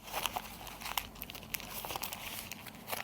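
Oil paper wrapped around injector valve parts crinkles and rustles as it is handled, giving soft, irregular crackles close by with no talking.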